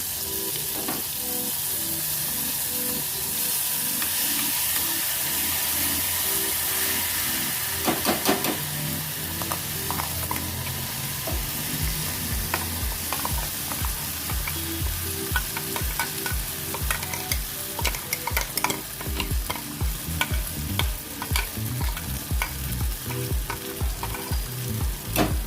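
Ground masala paste frying in hot oil for a South Indian stuffed brinjal curry, a steady loud sizzle with repeated scraping stir strokes growing busier partway through, no voices.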